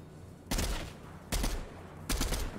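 Three loud, broad bursts of gunfire from IO guards in Fortnite, roughly evenly spaced about a second apart, each a short cluster of shots with no talking over them.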